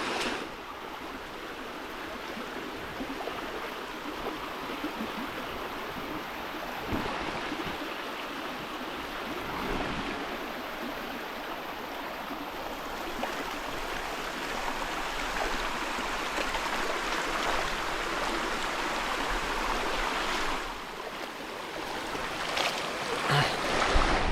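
Continuous rushing river water flowing steadily, with a broad wash of noise and occasional faint knocks, no voices.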